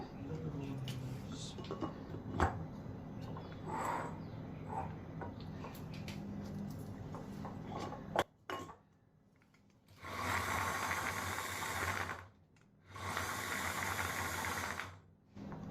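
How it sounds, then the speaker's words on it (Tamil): Garlic peeler machine peeling small onions gives a low mechanical rattle and ticking at first, then after a pause runs in two loud whirring bursts with a short gap between them. "இப்போ நான் சின்ன வெங்காயத்தை போட்டு ட்ரை பண்ணுறேன்"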